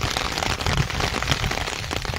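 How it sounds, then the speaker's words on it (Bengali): Heavy rain pours outside during a drive in Meghalaya, a dense, continuous loud hiss with crackling patter and no break. "বাইরে পড়ছে বৃষ্টি আর আমরা যাচ্ছি, মারাত্মক লেভেলে বৃষ্টি পড়ছে।"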